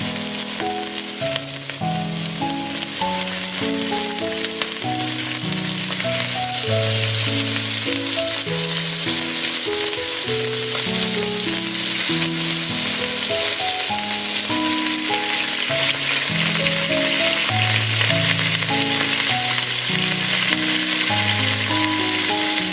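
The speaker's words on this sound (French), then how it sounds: "On va saisir nos morceaux de bœuf." Beef pieces searing in a pot for pot-au-feu, a steady loud sizzle and crackle throughout, with soft background music running underneath.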